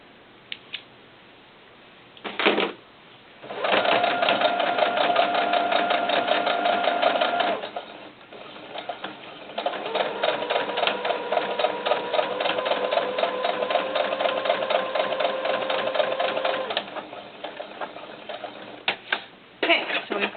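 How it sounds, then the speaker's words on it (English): A sewing machine stitches a doll-sized cowboy hat in two long runs of rapid, even mechanical clatter, with short pauses and handling noises between them. "we've got the middle circle sewn"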